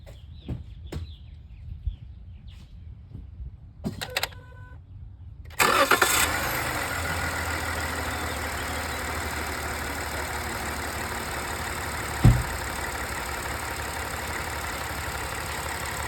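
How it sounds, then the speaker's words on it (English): A car engine cranks and catches with a sudden roar, then settles into a steady idle; a few clicks and knocks come beforehand in near silence. "I tighten it clockwise, and I can start the engine."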